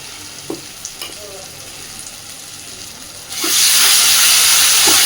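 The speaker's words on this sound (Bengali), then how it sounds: "জিরে, টমেটো আর গোলমরিচটা দেওয়ার পরে মিনিট 2 ভালোভাবে নাড়াচাড়া করে নিয়েছি" Cumin, tomato and pepper paste goes into a hot pan with ginger, garlic and onion for chicken kosha, with a few quiet clinks before a sudden loud, steady sizzle takes over.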